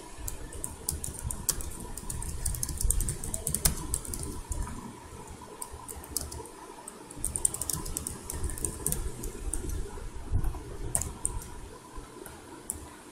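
Fingers tap out code on a computer keyboard in quick, uneven bursts of close clicks and clacks, with short pauses, over a soft background rumble.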